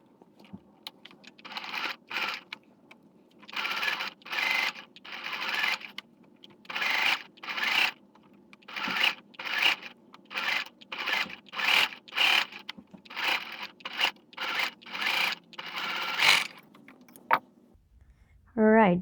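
A sewing machine stitches binding along the neckline of a dress made from a palazzo, running in many short, even bursts with brief pauses between them.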